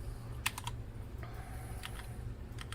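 Someone types on a Redragon K591 Parvati thin gaming keyboard, producing quiet, close, irregular key clicks in small clusters over a low background hum.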